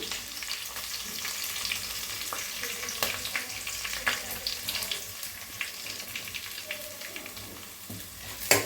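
Curry leaves and asafoetida crackle as they are tempered in hot oil for pappu charu, a steady close sizzle with small pops and stirring scrapes, no voices.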